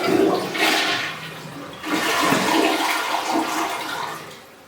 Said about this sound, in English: This is the first time this commode's ever been flushed.